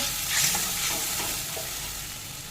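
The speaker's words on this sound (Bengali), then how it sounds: "এই মশলাটা দিয়ে একটু কষে নেব।" Ground spice paste fries in hot oil for a panch phoron katla fish dish, giving a loud, continuous close sizzle with soft stirring strokes and no voices.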